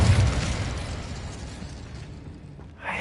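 Incendio fire spell cast in Hogwarts Legacy: a loud whooshing burst of flame erupts at once, then fades into a roaring crackle over about three seconds, with a fresh flare rising near the end.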